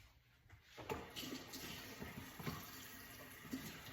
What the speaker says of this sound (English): Before the timer goes, I'm gonna wash my hands again.